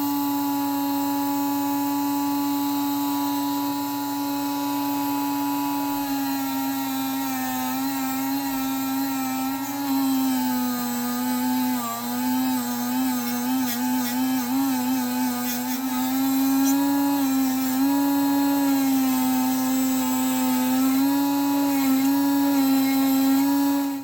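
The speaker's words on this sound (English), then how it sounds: "mini Dremel here. I don't really need the big one for this. So I'm using 320 grit to start with." A mini Dremel rotary tool with 320 grit sands a vintage Colonial 550 knife blade, giving a steady high motor whine that wavers slightly in pitch as it presses and eases, close by, for over twenty seconds.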